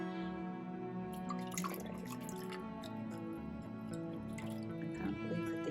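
Water is poured gently into a small betta fish tank, giving quiet trickling and dripping splashes over a faint steady hum, soft and close.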